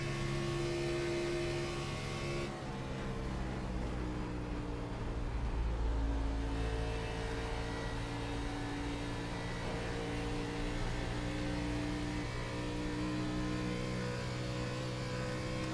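A race car engine drones steadily through a lap in the iRacing sim, with a sustained high-revving harmonic whine that shifts pitch slightly around one gear change early on, loud and continuous throughout, with no voices.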